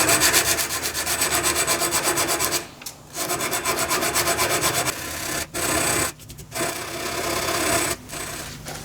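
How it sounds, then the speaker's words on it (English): Emery or glass paper rubbing steadily across a cast brass machinist hammer, a dense rhythmic scratching with brief pauses between strokes, close and fairly loud with no talk. "So I'll finish that off with some emery or glass paper."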